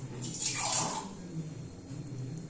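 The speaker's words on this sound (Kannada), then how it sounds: "ಈಗ ಸ್ವಲ್ಪ ನೀರು ಹಾಕಿದರೆ ಸಾಕು" Water splashes and pours briefly into a pot for sambar, a short bright gush that fades into quieter trickling and faint background noise.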